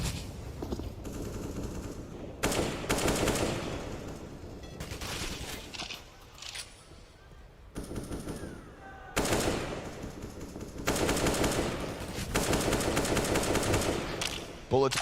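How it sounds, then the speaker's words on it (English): Sustained automatic rifle fire traded back and forth in a CS:GO professional match on the Overpass map, loud bursts with short pauses between them and faint background activity. "Bullets back and forth."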